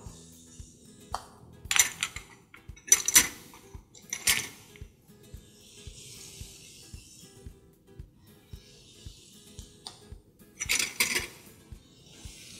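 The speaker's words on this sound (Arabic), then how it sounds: "بنيجي بقى كده نرجع نقلب تاني عشان بس ايه التوابل تدخل جوه مسام الفراخ" Seasoned chicken is stirred in a pan with irregular scraping clinks and metallic taps, a few louder clusters standing out over a faint steady ticking, close and without talk.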